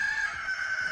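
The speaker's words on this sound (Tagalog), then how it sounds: "Tumilaw kang manok." A rooster crows inside a house at 5:41 in the morning, a loud, sustained, echoing crow that fills the whole second with little else around it.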